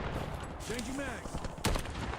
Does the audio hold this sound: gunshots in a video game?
yes